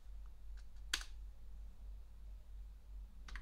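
Clicks on a computer keyboard while typing Linux commands, a few sparse, faint keystrokes over a low hum, with one sharper tap near the start and another at the end.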